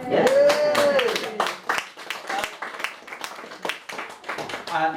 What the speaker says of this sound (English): Forced applause is my favourite type of applause.